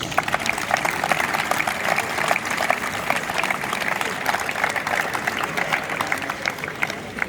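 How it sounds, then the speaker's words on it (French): Crowd at a francophone Scrabble world championship applauding a national team during the team introductions, with dense steady clapping throughout and individual sharp claps standing out. "applaudissons la personne malgache"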